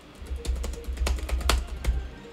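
Typing on a computer keyboard, heard close up as a loose run of crisp clicks and key taps spread over a couple of seconds, with no talking.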